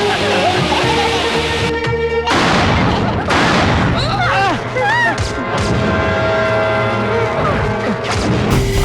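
Loud firecrackers burst and crackle in quick succession, sharp pops piling up amid excited voices.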